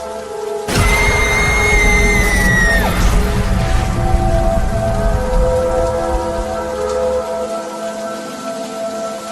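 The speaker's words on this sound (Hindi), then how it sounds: "इतनी तेज बारिश और गरजते हुए बादलों के बीच रात गुजार पाना शॉन के लिए बहुत मुश्किल हो जाता" Heavy rain pours down steadily in a dark forest at night while a loud rumbling thunderclap rolls in near the start and fades into a long low grumble beneath the downpour.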